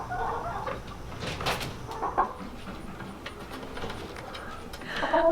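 Chickens in a backyard urban homestead coop give scattered, moderately close clucks and squawks over quiet background noise, with a few brief bursts and a louder call near the end.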